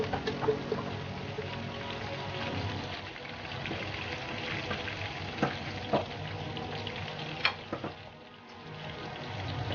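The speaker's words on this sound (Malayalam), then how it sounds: "എണ്ണ ഒഴിച്ച് ചൂടാവുമ്പോൾ നമ്മൾ അരിഞ്ഞു വെച്ചിരിക്കുന്ന മല്ലിയിലയും വേപ്പിലയും ഇട്ട് കൊടുക്കുക" Chopped coriander leaves and curry leaves fry in hot oil for a Kerala-style spicy chicken roast, giving a steady, close sizzle with a few sharper pops and stirring scrapes.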